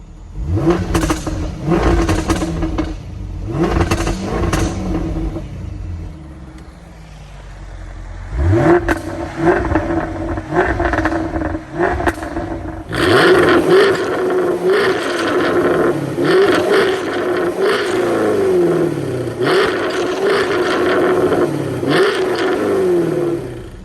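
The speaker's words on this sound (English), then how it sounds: "Go ahead and give it a few revs." A Jaguar F-Type R engine revs repeatedly, loud throttle blips rising and falling between a rumbling idle, close up, with crackling exhaust bursts.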